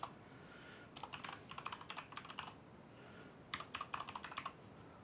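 Two bursts of quick keystrokes on a computer keyboard while network and domain settings are configured on a Windows Server machine, each run about a second and a half long and separated by a pause, close and fairly quiet with no voice.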